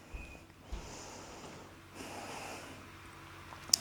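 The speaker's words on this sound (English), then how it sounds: "Take a deep breath in" A slow, deep inhalation during a yoga core session on a bare floor, heard as soft airy breathing close to the mic, with a sharper snort-like intake near the start and a brief click at the end.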